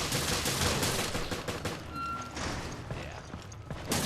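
Distant, continuous gunfire from the battle outside in Resident Evil Revelations Raid Mode, a dense crackle of shots with a few sharper reports, heard from inside a ship cabin.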